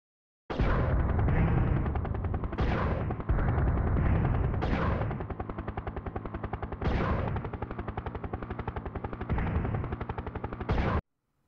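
Bomb destroying the South Tower in a 1994 kids' video game, a long loud crackling roar of repeated explosive bursts with several sharper surges, rough and continuous for about ten seconds before cutting off abruptly.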